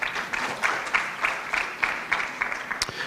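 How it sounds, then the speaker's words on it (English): Scattered, rhythmic clapping from a modest conference audience at an African climate change adaptation event, with soft repeated claps in a loose steady beat and a sharper clap near the end. "one more round of applause for the panel as they take their seats"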